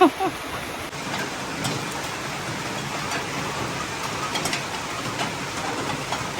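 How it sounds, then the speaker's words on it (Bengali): Steady, dense rain hisses throughout, heavy and close, with a brief clatter at the very start. "ঝমঝমিয়ে বৃষ্টি শুরু হয়ে গেছে।"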